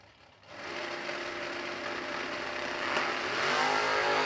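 Drag racing Camaro with an extended nose and a hot rod launching on the track, a loud sustained roar of engines that kicks in after a quiet start and grows louder with a rising rev near the end.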